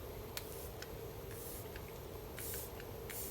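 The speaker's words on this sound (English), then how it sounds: "So very, very fine mist, but I would say the majority of the mist goes to the top and bottom of the spray." A facial mist spray bottle from Revlon gives several quick, faint hissing spritzes in a quiet room, short puffs spaced unevenly over a few seconds.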